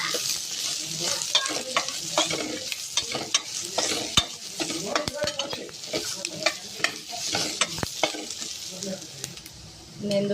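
Whole cinnamon and cloves frying in hot oil for chicken green gravy, a steady close sizzle broken by frequent scraping and knocking as a utensil stirs the pan.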